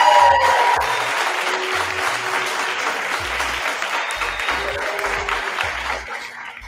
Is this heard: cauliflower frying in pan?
no